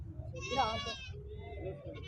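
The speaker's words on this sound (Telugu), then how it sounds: "నాటు మేక పోతులు అండి పెద్ద సైజు ఉన్నాయి" A large native male goat gives one wavering bleat among other livestock at a busy weekly Wednesday market in Siddipet, set against a low crowd murmur.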